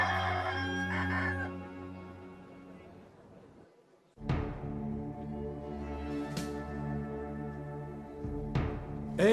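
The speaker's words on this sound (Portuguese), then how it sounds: "antes que o galo cante" A rooster crows in a Portuguese-language staged Passion scene, one long crow fading out, then after a short gap further loud crows and clucking close by, with voices faintly mixed in.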